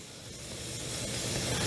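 Half a big yellow onion hits hot butter in a pan over raised heat, giving a steady broadband sizzling hiss that swells slightly louder over the short stretch, close and continuous with no talk.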